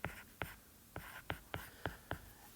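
Pen or marker strokes writing out a math solution for a differential equations problem, seven short sharp taps and scratches in an uneven rhythm, close and fairly quiet with no talking.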